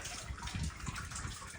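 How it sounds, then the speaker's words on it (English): Tannin-stained water from a restored outback well pours into a water bladder, a continuous close gushing and splashing for a couple of seconds with no talk. "filling up the water bladder."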